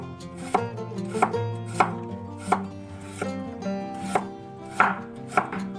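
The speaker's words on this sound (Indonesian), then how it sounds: "Sekarang kita iris wortel." A knife slices through carrot on a cutting board in about ten crisp, evenly spaced chops, close and clear over soft background music.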